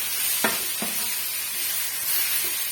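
Potato poriyal with coriander leaves stirred in a pan: a constant soft sizzle with two or three distinct scraping strokes of the spoon, close and without any talk.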